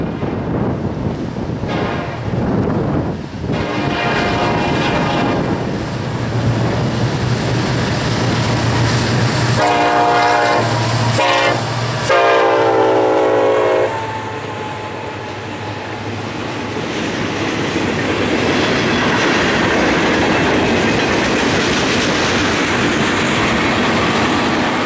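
A Florida East Coast Railway freight train carrying intermodal and ethanol loads rumbles past with a loud sustained horn blast partway through, then steady rolling wheel noise continues.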